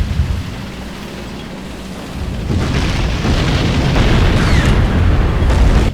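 Artillery bombard shell explosions in the World War II strategy game Sudden Strike 3 on a German campaign mission, heard as a loud, sustained low rumble of blasts that swells after a quieter opening and continues to the end.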